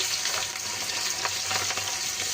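Chopped onion fries in hot oil in a wok with a dense, even hiss and light crackle, steady and close, with faint stirring and no voices.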